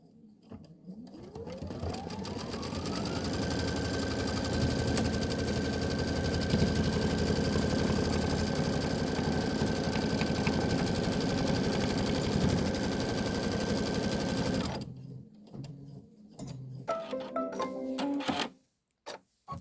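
A sewing machine stitches an outline around a quilt block, whirring up to a fast, steady hum for about twelve seconds before stopping, followed by brief clicks and handling sounds; no one speaks.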